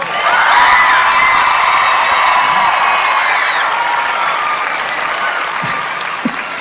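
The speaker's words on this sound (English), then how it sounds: "They're screaming for you like you got an accordion on." A concert crowd cheers, screams and applauds loudly for a band member being introduced at a Christian rock show, with high-pitched whoops riding over dense clapping that slowly eases.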